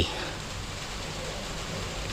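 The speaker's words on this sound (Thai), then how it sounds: "วันนี้ก็มีฝนโปรยปลายนิดหน่อยนะครับนี่" Light drizzle falls at a temple, a steady, even hiss of rain on surfaces that fills the whole moment without a break, close and fairly loud.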